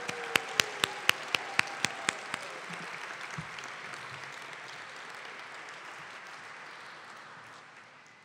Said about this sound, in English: I want to ask for a big round of applause also to Abby Wright and Lauren Meregildo Santos